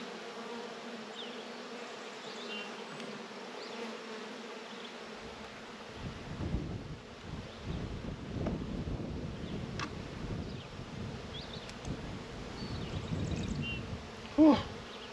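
Honeybees from a swarmy nuc being split into hives buzz steadily close by, with low thumps and handling noises of hive equipment joining midway and a brief sharp knock near the end.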